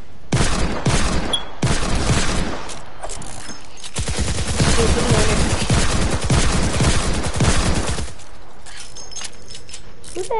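Rapid bursts of gunfire in Fortnite Save the World, dense automatic volleys that stop and restart several times, loud and close, with a mechanical click near the end.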